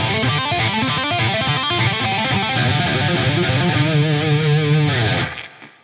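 Electric guitar with distortion and a chorus-like effect running minor pentatonic legato hammer-ons, a fast continuous stream of notes that settles onto a held note before fading out, no talking.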